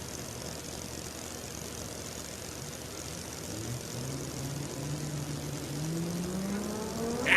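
Drag race cars at a racetrack during world cup finals eliminations, a distant steady engine drone building slowly, then a rising rev sweeping upward near the end as a car launches.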